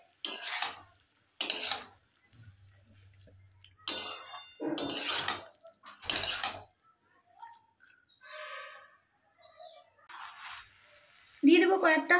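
Spoon stirring chili gobi in a pan, with cornflour slurry just added, giving several short bursts of scraping and clinking close up, separated by pauses and light kitchen handling noises.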